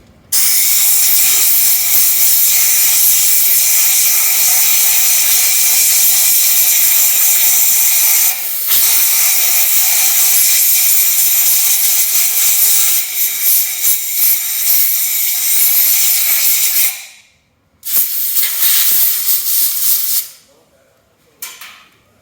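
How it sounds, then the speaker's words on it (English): Compressed air blasts out of a nozzle to clean Toyota Prius engine parts during a Gen3-to-Gen4 engine swap, a loud continuous hiss running for about seventeen seconds, then a short pause, one more burst and a brief final puff. "Man, it always helps to have like compressed air."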